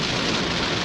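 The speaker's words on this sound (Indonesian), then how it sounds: "Makin gede lagi hujannya guys" Heavy rain pours down during a drive in an old Toyota Camry, a loud, dense, continuous hiss that fills the cabin without letup.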